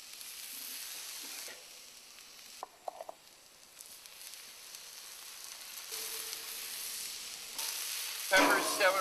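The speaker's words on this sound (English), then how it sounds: "Onion takes the longest to cook. When you cook it down, it gets real sweet." Onions sizzling in a pan, a steady soft hiss of frying with a brief stir partway through and a louder crackle near the end, close up with no talking.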